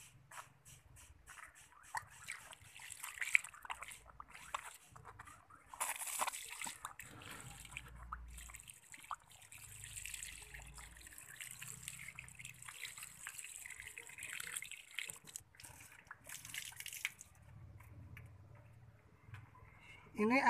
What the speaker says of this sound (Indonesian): Lalu kita siram ya, sini airnya, pakai air siram dulu